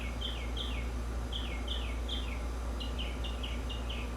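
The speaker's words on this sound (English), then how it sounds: "We got birds." Small birds chirp outdoors on a porch in short, repeated bursts of high tweets, fairly distant and faint over a steady low background hum, with no talking.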